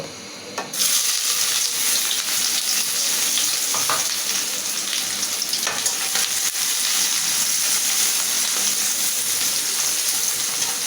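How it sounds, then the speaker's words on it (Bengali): Sliced onions hit hot oil for a spicy chui-jhal kosha meat curry, bursting into a loud, steady, close crackling sizzle that holds without a break; no one speaks. "আমার তেলটা গরম হয়ে গেছে আমি এখন পেঁয়াজটা দিয়ে দেব"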